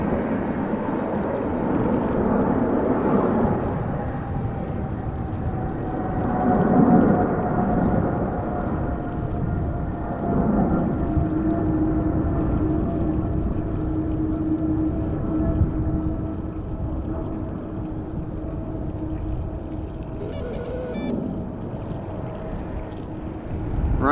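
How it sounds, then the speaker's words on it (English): A KLM Boeing 777-300ER jet takes off from Amsterdam Schiphol, a long sustained rumbling roar with a droning tone, loud and steady throughout with slow swells. "777 taking off from center. Going to Zanzibar, KLM flight 515, 777-300 ER, 11 years old"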